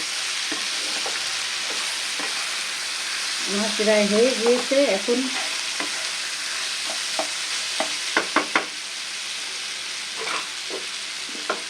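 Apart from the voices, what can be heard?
frying and stirring in a pan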